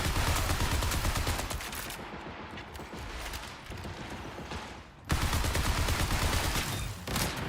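Rapid gunfire in the shooter Marathon: loud continuous automatic fire for two seconds, a quieter stretch of scattered shots, then another loud burst of sustained firing from the five-second mark.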